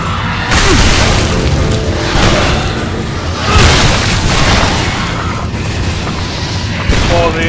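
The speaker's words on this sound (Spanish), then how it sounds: "Watch out! This'll go boom!" Repeated booming explosions in the video game Shadow Warrior, several loud blasts in a row over a dense, chaotic layer of combat noise.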